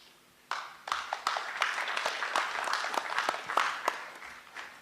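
Applause from an audience at a Kenya–Poland economic dialogue event in Nairobi, a dense crowd of clapping hands starting abruptly and sustained at moderate distance, with sharper individual claps standing out.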